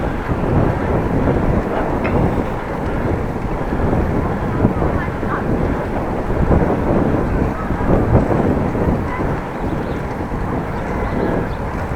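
Strong wind buffets the microphone while riding a bicycle along a quiet Dutch road, a steady broadband rumble that rises and falls across the whole stretch with no clear voices.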